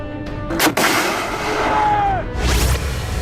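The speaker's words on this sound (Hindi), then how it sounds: "यह है laser guided anti tank missile, जिसको अर्जुन टैंक से लॉन्च किया गया।" Laser-guided anti-tank missile fired from an Arjun tank during a DRDO test near Ahmednagar: a sharp, loud launch blast followed by a rushing roar that fades, then a second swell of noise outdoors.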